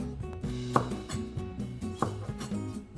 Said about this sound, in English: Let's also chop a bit of coriander.